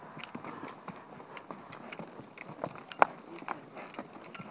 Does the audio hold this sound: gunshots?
no